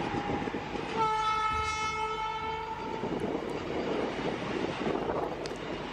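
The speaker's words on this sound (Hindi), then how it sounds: "यार सिंगल लोकोमोटिव इतना लंबा है।" A WAG-12 electric freight locomotive sounds a loud, sustained horn for about two seconds, its tone steady and held, over the rumble and clatter of the passing train, which keeps rolling after the horn stops.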